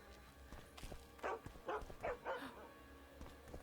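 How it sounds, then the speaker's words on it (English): A dog barks four times in quick succession in The Witcher 2, moderately close, over low game ambience with soft thuds and footsteps. "There's a dog!"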